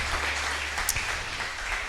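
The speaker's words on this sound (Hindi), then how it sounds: "ताली बजाकर वेलकम करते हुए" A church congregation claps in welcome, a steady, dense wash of applause that holds evenly throughout.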